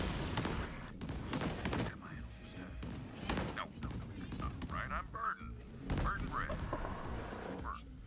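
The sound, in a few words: gunfire from a gun in the video game Borderlands 3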